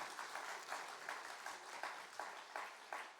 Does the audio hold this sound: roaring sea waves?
no